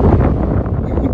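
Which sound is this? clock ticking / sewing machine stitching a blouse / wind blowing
wind blowing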